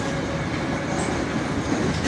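A Tashkent metro train runs underground, a steady loud rumble and rattle with faint clickety-clack from the wheels and a brief high squeal, all heard from inside the carriage.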